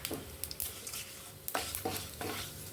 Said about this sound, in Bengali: ফোড়নে দিলাম আর গোটা গরম মশলা ফোড়নে দিলাম